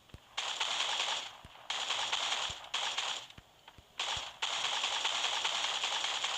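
Gunfire crackles in the video game Creative Destruction, with bursts of rapid shots broken by brief gaps and sharp single pops, fairly loud and steady with no talk.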